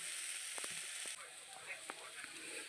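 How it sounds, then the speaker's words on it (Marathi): Poha frying in a pan gives a soft, continuous sizzle, with a few light scrapes and taps as it is stirred, quiet and close. "आता याला छान मिक्स करून घेऊया 2 मिनिटं"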